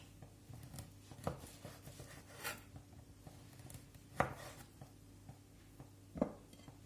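A knife cutting food on a board in a home kitchen while preparing fried potatoes and fish salad, several sparse, quiet cuts and taps spaced a second or two apart over low background hum.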